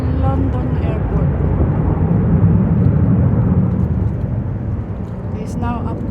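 A British Airways plane climbing away from London City Airport gives a broad, steady roar that slowly fades as it recedes, with a person speaking over it.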